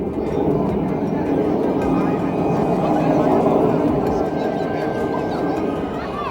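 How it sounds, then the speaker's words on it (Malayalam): A continuous, loud jet roar of airplanes taking off at an outdoor air show in the USA, steady throughout with no pauses. "ഞാൻ ഒരറ്റത്ത് നിന്നുകൊണ്ട് പറന്നുയരുന്ന വിമാനങ്ങളെ സശ്രദ്ധം ക്യാമറയിലൊതുക്കി"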